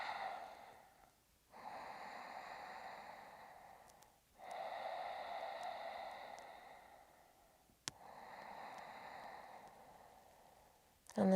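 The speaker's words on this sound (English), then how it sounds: "But I want you to keep that Ujjayi breath, the nice strong throat breathing." Ujjayi throat breathing during a yoga flow: slow, loud, rasping breaths in long drawn phases separated by short pauses, close to the microphone, with a click near the end.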